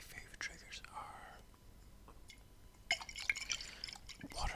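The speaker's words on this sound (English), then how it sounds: "water sounds in a glass jar" Water drips, trickles and sloshes softly inside a glass jar in close, quiet bursts, with a soft whispering voice in between.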